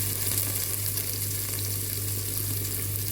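Ginger garlic paste frying in a hot pan for soya chunks pulao, a steady loud sizzle and crackle throughout with a constant low hum underneath and no talk.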